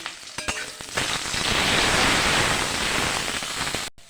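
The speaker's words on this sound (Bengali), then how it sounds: "তেল দিয়ে বেগুন আমি দিয়ে দিয়েছি কড়ার মধ্যে। বেগুনগুলো ভেজে নেব প্রথমে।" Eggplant pieces fry in oil in a wok with a loud, steady sizzle that swells after the first second and holds broad and close, cutting off abruptly near the end.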